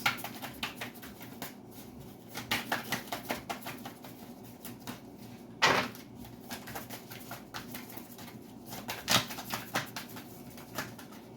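Quick papery riffles of tarot cards being shuffled in a steady patter, close and soft, with a few sharper snaps along the way.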